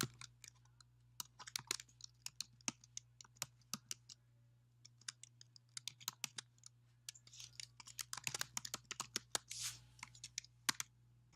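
Someone types a network ID and password on a computer keyboard, with quick irregular key clicks in bursts, close and fairly quiet, over a low steady hum.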